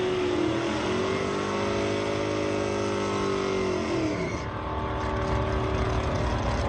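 Engines roar at a drag strip as a 1994 Pontiac and a 1980 Chevrolet run side by side, a loud sustained drone that rises in pitch for several seconds, then drops away into a steady rumble.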